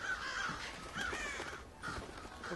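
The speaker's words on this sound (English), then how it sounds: "if I go whee, the birds go a bit crazy" Caged birds in the stealth video game Thief squawk and caw in agitation, a rapid run of harsh, overlapping calls repeating in bursts, fairly close and steady with no talking.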